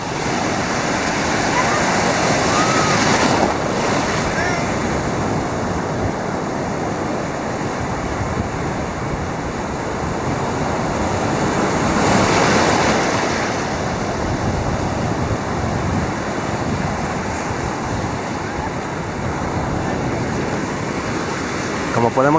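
Sea waves at Playa Delfines beach in Cancún, a steady broadband wash of surf with two louder swells, close and continuous, with wind noise on the microphone throughout and no talk.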